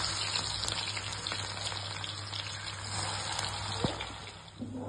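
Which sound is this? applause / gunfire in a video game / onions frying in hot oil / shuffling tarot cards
onions frying in hot oil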